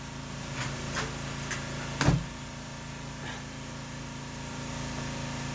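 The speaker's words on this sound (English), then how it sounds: "you hear a little noise in the background. It's the pressure washer." A pressure washer runs in the background as a low, steady drone throughout, with a few faint clicks and one louder knock from nearby work on a Husqvarna chainsaw. No one speaks.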